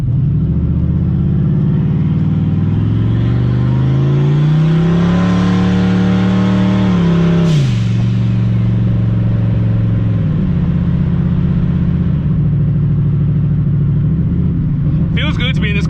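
A turbocharged Ford Mustang engine revs up strongly, pitch climbing as it accelerates, then drops and settles into a steady drone; loud and close throughout.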